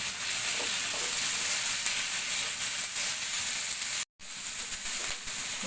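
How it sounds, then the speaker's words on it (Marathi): Green chillies and cashews sautéing in hot oil with tomato and onion in a pan, a steady loud sizzle and hiss lasting throughout with a brief break near the end, close up and with no talking. "नंतर हिरव्या मिरच्या आणि काजू हे आपण छान आता परतून घेणार."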